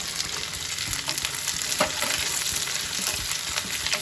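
Onions and capsicum sauté in a hot pan for home-style chilli chicken, giving a dense, continuous close sizzle with occasional stirring scrapes and no talk over it.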